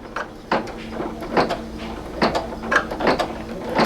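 A single-needle embroidery machine stitches an in-the-hoop mug rug with round appliqué, giving a close, steady run of rhythmic mechanical clacks and whirs that repeat about every second.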